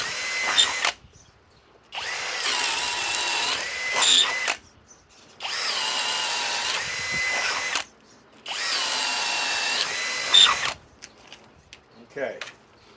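A Master Force Boost hammer drill driver rated at 800 inch-pounds drives a 3/4 inch spade bit into wood, sounding as three loud, sustained whining bursts with short pauses between them.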